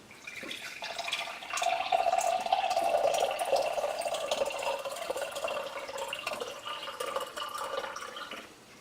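Filtered water from a Berkey filter trickles and drips steadily into a glass nearby, swelling slightly in the middle before easing off, with no voices.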